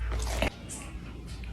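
A person takes a single crunchy bite of food, a brief loud crunch right at the start followed by quieter chewing noises, close up.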